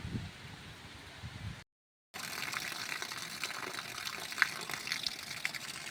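Rain pours steadily with a dense, hissing wash; a brief silent gap breaks it early before the downpour resumes, slightly stronger.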